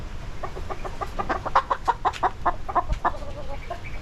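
A hen clucks in a rapid run of short, repeated notes, fairly close, trailing off into a softer murmur.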